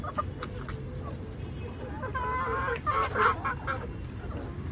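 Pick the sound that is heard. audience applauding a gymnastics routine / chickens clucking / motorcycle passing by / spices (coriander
chickens clucking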